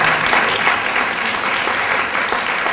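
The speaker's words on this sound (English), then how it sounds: "let's give her a round of applause" An audience at a sisterhood 100th anniversary and installation event breaks into loud, sustained applause, with dense hand clapping filling the room from start to finish.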